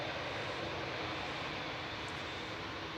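A delayed SAS airliner approaches Manchester Airport on an emergency landing, its engines a faint, steady distant roar under wind noise with no clear rise or pass.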